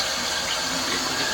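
Warm water runs steadily from a tap as a continuous, loud, close rushing hiss with no talking, part of preparing a Mr. Beer home brewing kit.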